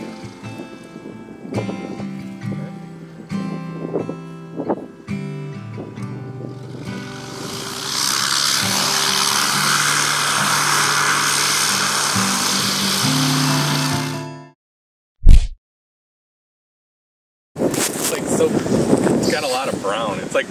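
Cessna light aircraft landing on a bush strip in the Upper Peninsula, a steady, loud engine and wind roar that cuts off abruptly after talk and background noise, then resumes briefly.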